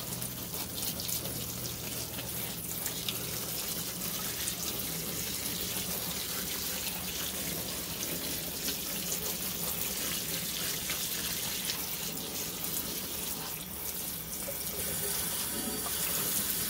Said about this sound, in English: So we're going to water this real good with some nice warm water.